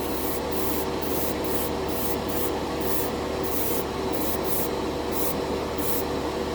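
Airbrush spraying artist acrylic tube paint onto a plastic model kit, a steady continuous hiss with short regular pulses as the trigger is worked, close and alone with no talk.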